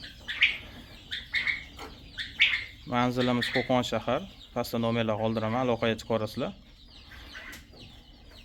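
Kuchinsky Jubilee chicks and chickens chirp, cluck and squawk in a pen, with someone talking steadily over the birds throughout.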